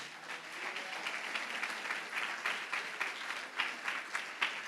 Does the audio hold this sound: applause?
yes